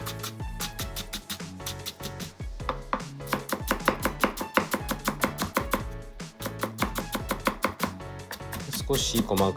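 Green onion, garlic and ginger are minced with a knife on a cutting board, a long run of rapid, close, crisp chops in quick rhythmic bursts with brief pauses.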